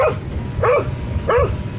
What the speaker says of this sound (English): Here goes the dogs. Oh, there is dogs.